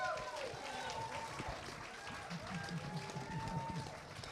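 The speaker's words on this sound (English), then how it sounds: "Please, great big huge round of applause for Dan Willows." Audience at a special event in a venue applauding a contest winner, a sustained wash of clapping and crowd noise with voices talking over it.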